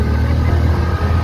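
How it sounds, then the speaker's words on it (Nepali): A motorbike labours up a steep hill road in Nuwakot, Nepal: a loud, close, steady low engine rumble that holds constant and strained throughout, with no talking. "उकालो नि डेन्जर रहेछ हाम्रो बाइकले मरिमरि ताइरहेछ"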